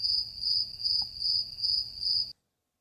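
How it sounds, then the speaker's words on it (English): Crickets chirp in a steady, shrill pulsing trill, the rhythmic bursts repeating evenly and fairly loud before cutting off abruptly near the end. "Crickets."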